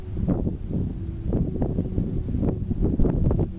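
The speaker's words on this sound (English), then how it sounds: "And the wind's blowing today." Wind blowing outdoors, a steady low rumble buffeting the microphone throughout with slight gusty swells and no voices.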